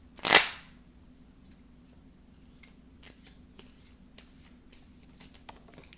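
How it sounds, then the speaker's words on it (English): A small deck of tarot cards is shuffled, opening with one loud riffling burst up close and then soft, scattered ticks and taps of the cards over a quiet background. "soon as I finish shuffling up this little deck."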